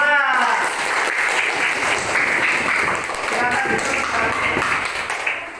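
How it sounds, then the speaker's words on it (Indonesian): Students in a classroom clap for a group after its presentation, a loud, continuous burst of applause with a teacher's voice briefly audible over it. "kasih tepuk tangan untuk kelompok 2"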